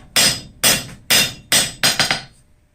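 Five hard hammer blows on rusty steel being forged thin, struck in a steady rhythm about half a second apart, each ringing briefly and loud and close; the last blow bounces into quick rebound taps.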